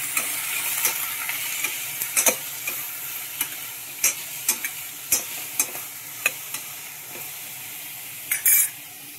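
A spoon scrapes and clacks against a pan while stirring a tamarind curry tempering, with sharp knocks at an irregular pace over a faint steady sizzle of frying, and a louder clatter near the end.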